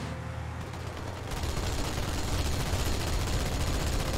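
Gunfire in the video game Halo 2, a dense, steady rattle of rapid shots that swells slightly after the first second and keeps going without a break, with no talking over it.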